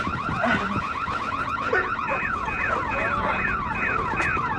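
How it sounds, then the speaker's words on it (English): Multiple car alarms blare at once, overlapping whooping and warbling electronic tones, loud and continuous throughout. "What's with all the alarms?"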